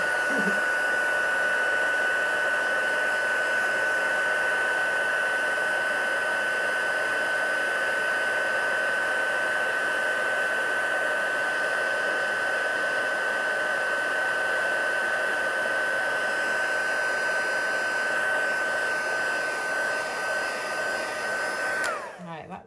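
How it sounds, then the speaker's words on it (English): An embossing heat tool blows steadily and loudly for about twenty seconds with a constant whine, then cuts off at the end. "now I'm going to heat it with a heat tool"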